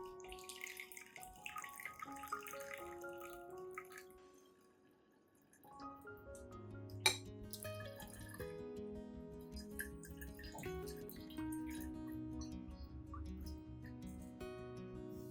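A garlic solution drips through a filter, with soft liquid drips and trickling heard under gentle background music.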